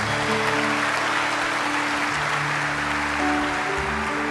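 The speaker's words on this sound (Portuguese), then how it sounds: "Podemos aplaudir a palavra da nossa salvação." A church congregation applauds during a Catholic Mass after the Gospel reading, steady, moderate clapping that fills the room, with a sustained organ or keyboard chord held underneath.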